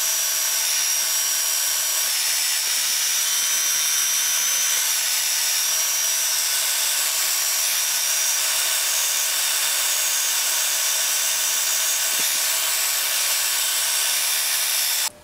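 A lathe bores the cylinder of a model steam engine, starting with a light calibration cut; a steady, loud high-pitched whine and cutting hiss runs unbroken and close throughout, with no talk.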